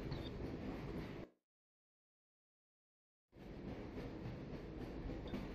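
A rail tram rolls along in the video game Half-Life: Source, giving a quiet, steady mechanical rumble that cuts out completely for about two seconds and then resumes.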